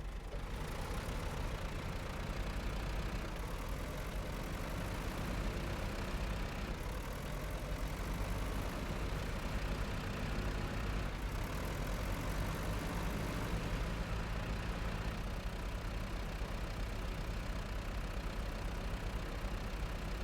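A small logging tractor in a video game runs at a steady idle, a continuous low, rumbling engine drone that stays loud and close for the whole stretch with no break.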